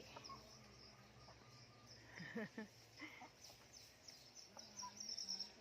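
Laying hens clucking and calling softly at a distance inside a henhouse, scattered bursts of chicken sounds over a low ambient hum.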